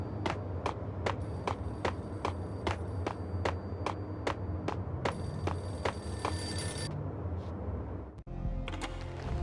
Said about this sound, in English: A payphone started to ring.